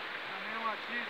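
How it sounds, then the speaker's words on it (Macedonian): The Lepenec river flows with a steady, soft rush of water heard from a distance. A faint voice can just be made out beneath it. "Река Лепенец."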